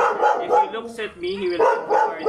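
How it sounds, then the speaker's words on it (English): A dog barks repeatedly at a worker arriving, several close bursts with a whimpering edge, mixed in with someone talking over it. "So that's my dog barking kasi merong tao na dumating."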